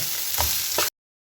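Rice being stirred into an onion mixture in a pan for onion rice, a steady sizzle with two brief scraping stirs before it cuts off abruptly.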